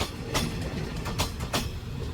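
A long passenger train rolls past at Bang Sue station, a steady close rumble with rhythmic clickety-clack bursts from the wheels crossing rail joints, loud and continuous with no talking.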